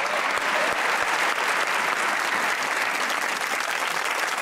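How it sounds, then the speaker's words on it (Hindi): Studio audience at a comedy talk show gives sustained, dense applause, loud and steady throughout without talk. "ताली होनी चाहिए।"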